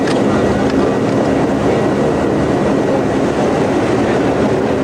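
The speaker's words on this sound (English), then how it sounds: "Engine run-up." Lockheed Super Constellation piston engine running up on the ground, a loud, steady, dense rumbling drone that holds evenly throughout, close by, with no talk over it.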